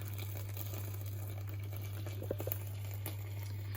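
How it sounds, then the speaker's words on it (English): A soft, steady sizzle with faint crackles from a roast dinner toastie cooking runs over a constant low hum, no voices. "You can hear it sizzling away."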